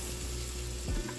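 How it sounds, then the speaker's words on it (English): Butter melting in a hot pan gives a steady, soft sizzle, close and continuous, with a faint clatter near the end. "So all I'm gonna do is just melt some butter"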